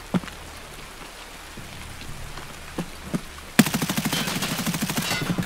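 A bot opens automatic fire in the shooter Escape from Tarkov, a fast, loud burst of rapid shots beginning partway through and continuing steadily to the end, after a quieter stretch that holds only a few scattered sharp pops.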